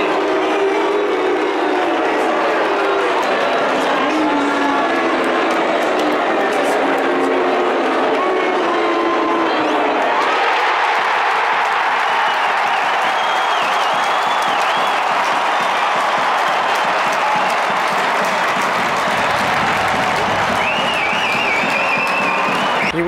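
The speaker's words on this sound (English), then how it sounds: "And the crowd goes wild." Loud, roaring crowd noise fills a packed stadium at the AFL Grand Final between Collingwood and Brisbane, a dense sustained cheer that swells and shifts without letup, with a commentator talking over it.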